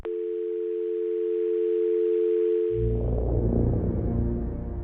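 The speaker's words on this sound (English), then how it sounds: "No voices, just a faint dial tone." A steady, continuous dial tone from an old kitchen telephone hums alone for a few seconds, then a louder low rumbling noise joins in beneath it.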